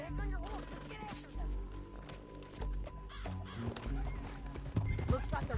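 Horse hooves clip-clopping in the video game Red Dead Redemption 2, uneven trotting beats under game dialogue, with other animal calls and background sounds mixed in.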